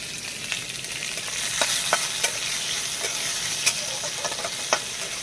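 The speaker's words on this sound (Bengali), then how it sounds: "পেঁয়াজটা ভাজা ভাজা করে নিই।" Chopped onions with cumin sizzle steadily in hot oil in a pan for a fish curry, with sharp clicks and scrapes of a spoon stirring through them at irregular intervals, close and continuous, with no talking.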